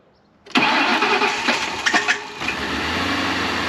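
A car engine cranks briefly, then catches and roars up before settling into a steady idle.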